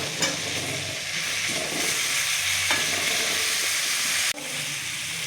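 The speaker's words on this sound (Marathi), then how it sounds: "हे तेल टाकलं कढईत, चमच्याभर हळद टाकायची, हे 2 चमचे तिखट टाकायचं, हे लिंब टाकून घ्यायचं त्याच्यात." Lemon pieces are stirred into hot oil with turmeric and chili in a kadhai for lemon pickle, giving a continuous close sizzle and hiss with a few soft clinks of the spoon; no talk.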